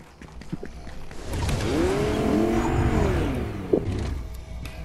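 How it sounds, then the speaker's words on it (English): Car engine in the Fortnite video game, a steady rising and falling motor drone that swells through the middle and fades, with a brief sharp knock near the end. "Oh, there's a car here."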